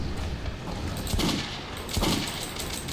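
Bursts of rapid gunfire in the video game Metro 2033 Redux crackle and pop in quick volleys, with a heavier burst near the middle and another toward the end.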